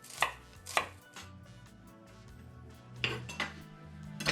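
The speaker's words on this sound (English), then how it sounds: "Chop up your shallots. You just want finely chopped pieces." A knife chops shallots finely on a board, sharp close strikes landing in loose pairs with quiet gaps between them and no talk.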